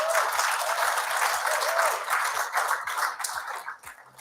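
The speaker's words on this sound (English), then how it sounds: "give yourself a round of applause" A room of guests at a business breakfast applauds, a steady patter of many hands clapping that thins and tapers off near the end, with no voices over it.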